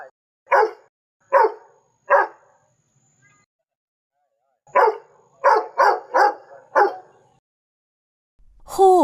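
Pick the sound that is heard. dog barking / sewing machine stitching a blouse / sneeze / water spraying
dog barking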